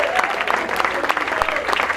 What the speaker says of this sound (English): Come on, big round of applause here.